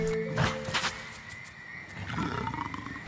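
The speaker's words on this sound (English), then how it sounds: "He heard growling and roars and spitting sounds from another carnivore." Carnivorous dinosaurs in the Spore video game, a Spinosaurus among them, give a few loud, rough growls and roars spread across a few seconds, with no talking.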